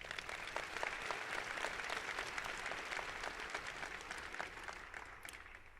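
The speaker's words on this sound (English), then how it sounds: "Let's give them a round of applause" Steady applause for honor graduates at a high school graduation ceremony, a large audience clapping continuously at moderate distance for several seconds without a break.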